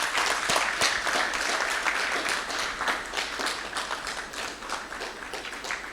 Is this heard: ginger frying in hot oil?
no